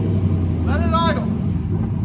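A cammed Chevrolet Silverado engine idles close by with a steady, deep low rumble throughout, while a voice speaks briefly over it.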